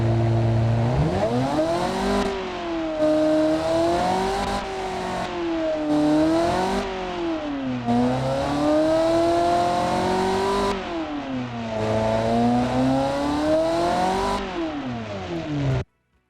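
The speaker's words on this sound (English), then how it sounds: "I'll just slowly rev it up." A simulated car engine in the Automation game revs repeatedly, its loud droning pitch climbing and falling in steady waves for most of the stretch before cutting off abruptly.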